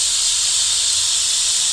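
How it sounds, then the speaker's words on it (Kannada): A pressure cooker holding brinjal bharta with masala, onion and tomato vents steam in a steady, loud, unbroken hiss for the whole moment, with no voices. "2 ವಿಸಲ್ ಆಗಿದೆ. 2 ವಿಸಲ್ ಆಯಿತು."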